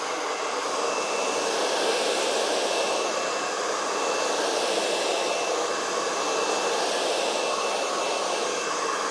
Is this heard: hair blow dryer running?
yes